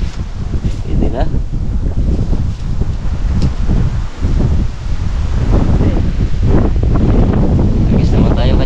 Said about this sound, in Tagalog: Grabe hangin oh.